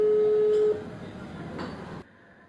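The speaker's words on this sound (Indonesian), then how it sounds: "Coba ya kita telepon." A phone places a call: a steady dial tone sounds for under a second, then cuts off, giving way to a quieter line hiss with a faint click before the line goes silent.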